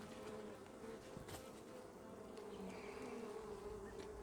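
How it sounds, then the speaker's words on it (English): Honeybees buzzing around a weak hive on a cloudy day, a continuous low drone of many insects with individual bees passing close, steady and fairly quiet throughout. "I think the bees are just a little bit more jumpy today than they were yesterday."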